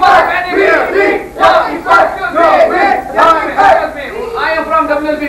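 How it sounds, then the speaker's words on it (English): A crowd of people protesting against the government after a bomb blast, shouting slogans together in loud, rhythmic surges close by. "People are protesting here. All of them."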